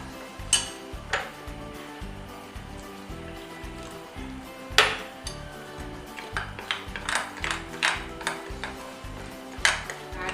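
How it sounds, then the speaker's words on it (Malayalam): A spoon stirring a batter of sugar, baking soda and water in a bowl, with repeated knocking and clinking strokes in an uneven rhythm and a few sharper clinks, close up and alone without talking. "ഇതെല്ലാം കുറച്ച് വെള്ളമിട്ട് കട്ടയില്ലാതെ നമുക്കൊന്ന് മിക്സ് ചെയ്തെടുക്കാം."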